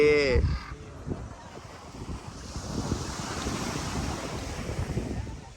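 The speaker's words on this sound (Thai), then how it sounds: "ลมดี" Steady wind roars across an open beach on Nuan Beach, with broad surf-like rushing noise and buffeting against the microphone; a brief voice or goose-like honk is heard at the very start.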